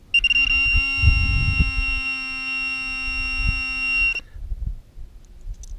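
A Pro-Find metal detector gives a steady, high-pitched electronic tone for about four seconds as a coin touches a nail, then cuts off, with some low handling thumps beneath it.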